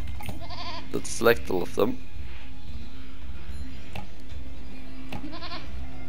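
Goats bleat in the Age of Empires Online game, several short bleats around the first two seconds and a few later ones, under a man's speech and a steady hum of game background noise.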